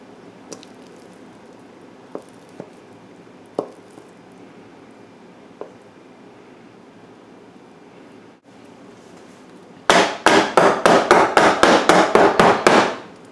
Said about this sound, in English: Hit the loaf pan down if you desire